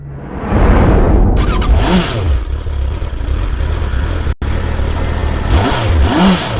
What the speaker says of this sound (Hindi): उधर रुद्र अपनी बाइक पर सवार होकर अरण्य ग्राम की तरफ बढ़ा चला जा रहा था